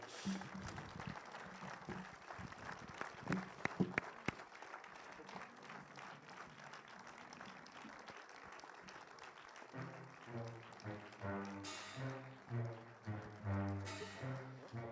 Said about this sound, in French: Vous pouvez les applaudir parce que c'est eux qui vont faire notre feria.